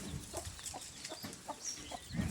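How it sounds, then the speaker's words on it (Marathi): A chicken clucks in a series of short, faint, regular calls, with soft background noise and no speech. "ह्या कोंबडीला हाणून तिकडं घे गे रे"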